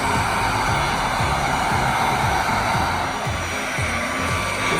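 Heat gun blowing steadily on vinyl wrap over a Mercedes-Benz S550 W222 grille, a loud, continuous airy whir with a low motor hum that stays unchanged throughout.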